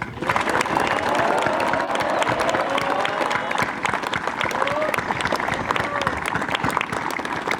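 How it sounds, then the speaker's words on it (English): Applause for the cadre at a closing ceremony rolls on as sustained, lively clapping from a large crowd, with a few voices and cheers mixed in throughout. "I want to give a round of applause to your cadre"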